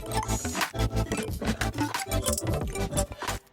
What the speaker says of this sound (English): the saw synth that we used earlier is now being played, but with a volume LFO modulation